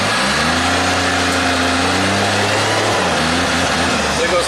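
A Kawasaki side-by-side in reduced-speed mode revs steadily in reverse, its engine droning at a constant pitch for about three seconds before the tone drops, with loud broadband wind and machine noise throughout.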